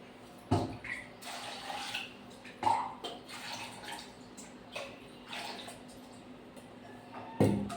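Water being poured into a pot of spiced pumpkin curry, with a splashing rush and a few sharp clanks of the pot between quieter stretches.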